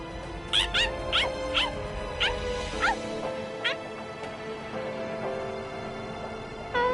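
A dog barks and yips in quick bursts in Bleach Rebirth of Souls, a handful of high squeaky barks clustered early, then fewer scattered yelps, close and fairly loud over a steady low background tone.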